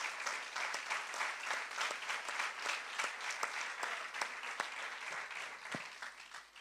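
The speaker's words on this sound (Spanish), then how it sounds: "Dale un fuerte aplauso al santo." A church congregation applauding during a Sunday service, steady sustained clapping from many people, somewhat distant and soft, with a few sharper claps standing out and no talk.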